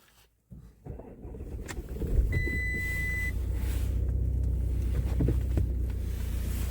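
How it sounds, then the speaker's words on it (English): A starter whirs, a warning beep sounds briefly, and an Audi A6 TDI diesel engine with a DPF fault code P2002 catches, settling into a loud, steady low rumble that continues throughout. "we're at time now to start up the engine"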